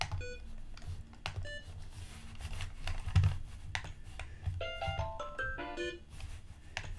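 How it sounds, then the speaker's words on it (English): Chiptune-style Game Boy beeps from an SNES game, a run of short bright electronic tones that climb in pitch near the end, over steady clicking and tapping of input devices. "you can get Game Boy beeps too"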